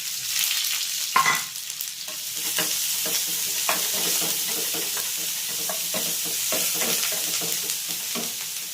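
Chopped onion fries in hot oil with spluttered mustard seeds and curry leaves for a Kerala spring onion stir fry. A close, continuous sizzle runs throughout, broken by stirring scrapes and taps.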